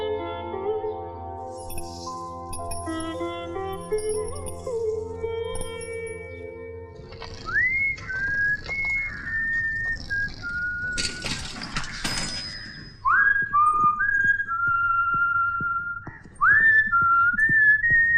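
A person whistles a lilting tune in a Hindi film scene, with rising and gliding notes that are clear and close. Music plays beforehand and there is no talking.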